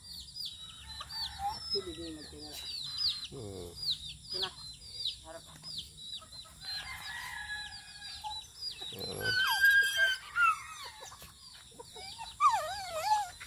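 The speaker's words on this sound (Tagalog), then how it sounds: "Ayun ang mga hayop ko, mga manok," Chickens cluck and crow intermittently outdoors, with a rooster call standing out amid quieter bird sounds and a steady background hum.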